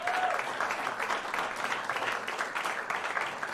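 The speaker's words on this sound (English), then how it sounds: "a round of applause for these fine young men" Steady applause from an audience at a piano awards concert, a dense continuous patter of clapping at moderate distance with no talking.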